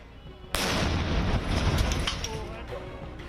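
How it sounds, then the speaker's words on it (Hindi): A sudden loud explosion from a controlled detonation of an IED by a bomb disposal squad bursts after a quiet moment, its deep rumble lingering and slowly fading over the next few seconds. "असल में यह धमाका उस IED को निष्क्रिय करने का था"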